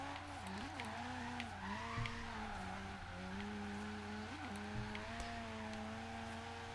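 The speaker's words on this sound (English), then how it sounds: "You can see like I'm obviously drifting, but the jump is just too much for me to be comfortable." Mazda FD3S RX-7 rotary drift build in Forza sliding at high speed at Byron Bay, with continuous tire squeal wavering over a steady engine drone, loud and sustained without pause.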